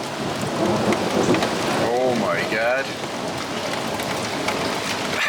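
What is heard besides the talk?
thunderstorm with thunder and rain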